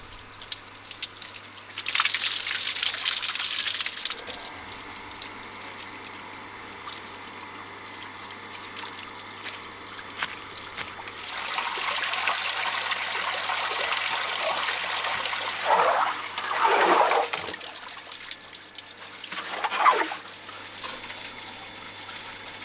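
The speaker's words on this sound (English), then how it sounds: "just add a tap to this IBC with a bit of hose that runs into their water trough" Water runs from a tap fitted to an IBC tank through a short hose into a livestock trough on a farm in central Portugal, a steady splashing flow that swells and eases with occasional louder gushes, heard up close outdoors.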